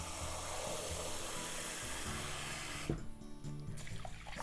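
Water pours steadily onto rice being rinsed for chicken and leek takikomi gohan, a close splashing hiss that breaks off near the end into quieter swishing and faint clinks.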